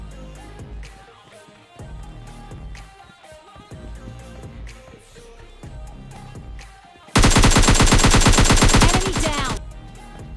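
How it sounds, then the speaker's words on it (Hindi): Burst of automatic gunfire from the battle royale game PUBG Lite, a loud sustained volley of rapid shots erupting after a stretch of quieter in-game ambience and lasting about three seconds. "ए डिस्ट्रिक्ट में यहाँ फायरिंग की आवाज़ आ रही थी"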